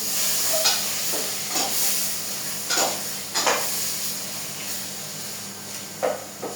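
Turmeric, chili, coriander and cumin powders fry in oil for a mutton curry, giving a steady close sizzle and hiss punctuated by several scraping stirs of a spoon against the pot.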